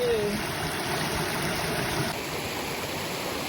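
A forest stream, its water yellowish with tannins, rushes and gurgles in a steady close wash while a bottle is filled in it, with a voice briefly heard at the start.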